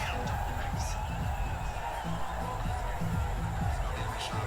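A cricket crowd at a Bangladesh vs Sri Lanka Asia Cup T20 match cheers a boundary, a steady distant roar of voices and whoops under a commentator talking throughout.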